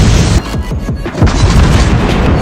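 A torpedo strike explodes against a cruiser during a World of Warships Blitz naval battle, a series of loud, close booming blasts rumbling over continuous heavy low-end battle noise for a couple of seconds.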